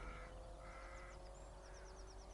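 Crows cawing overhead at a tidal marsh with rotting barges, a series of short, fairly distant caws repeating in quick rhythm over soft outdoor ambience.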